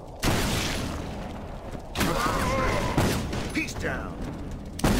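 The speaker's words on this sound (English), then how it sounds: "He's shooting!" Gunfire in an Inversion cutscene: several loud booming blasts and bursts spread over five seconds, mixed with mechanical clatter, under brief shouted speech.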